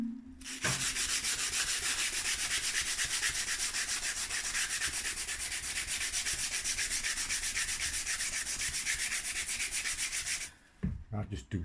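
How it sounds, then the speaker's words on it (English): Steady, loud wet sanding of old dirt bike plastic with 80 grit sandpaper, a continuous rhythmic rasping scrub of fast back-and-forth strokes lasting about ten seconds before stopping abruptly. "You want all the little scratches out with the 80 grit sandpaper."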